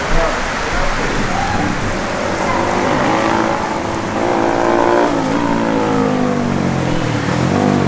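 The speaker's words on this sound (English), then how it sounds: "That's a bit of a downpour, isn't it?" A heavy downpour roars steadily during an enduro ride, a dense wash of rain close by with a muffled rumble running beneath it.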